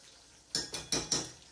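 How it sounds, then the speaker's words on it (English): A spoon stirring sauce in a pan, three or four quick, distinct scraping clinks against the metal, close and fairly quiet with no talk. "I'm just going to stir it up again."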